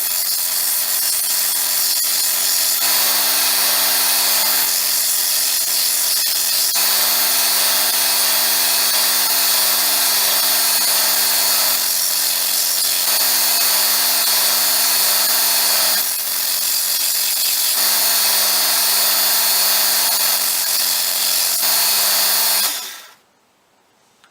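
A Robert Sorby ProEdge belt sharpener grinds turning tools with the tool bed set at 45°, a steady loud abrasive whine with rhythmic scraping passes that runs almost 23 seconds and then cuts off abruptly.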